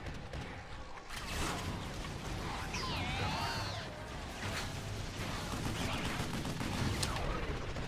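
Gunfire in the Vanquish video game, a dense burst of shots and whooshing effects running continuously and fairly loud under a busy game soundscape.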